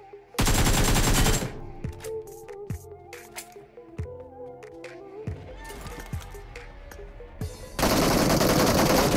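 Gunfire sounds in a battle royale mobile game: loud, dense bursts of automatic fire open and close the stretch, with sharp single shots and game effects spaced through the quieter middle, and no clear talking.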